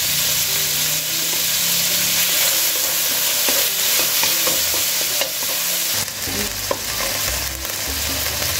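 Meat seasoned with salt and pepper fries in a pan with a continuous, close sizzle, broken by occasional stirring and scraping knocks and a short louder clatter near the end.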